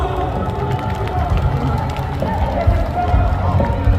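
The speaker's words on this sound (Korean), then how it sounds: "가수 연현석님 다시 한번 큰 박수 부탁드립니다." Loud crowd applause and cheering at an outdoor Korean protest rally after a singer's performance, dense clapping mixed with shouts and babble from a large gathering.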